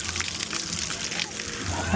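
Water splashing and spraying at a splash pad in DreamWorks Land, a constant broadband wash of jets and falling water close by, with faint crowd noise in the background.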